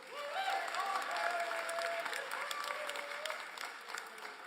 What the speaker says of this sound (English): Can we also give a round of applause for our councilman from the 3rd Councilmatic District